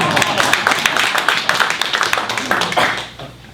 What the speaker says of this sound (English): I'll clap.